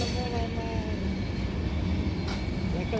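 A goods train passes at a railway station, its low rumble and rolling wheel noise steady and fairly loud, with faint squeals riding over the din.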